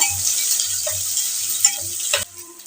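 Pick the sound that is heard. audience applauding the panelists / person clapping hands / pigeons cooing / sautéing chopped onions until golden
sautéing chopped onions until golden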